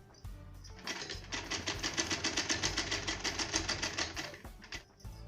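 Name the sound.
sewing machine stitching a fall onto a saree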